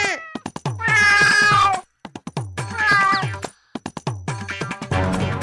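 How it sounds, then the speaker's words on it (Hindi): A cartoon cat meows loudly in three long, drawn-out calls separated by short pauses, with sharp clicks and knocks scattered between them. "ये बिल्ली तो चिड़िया खाने आई है"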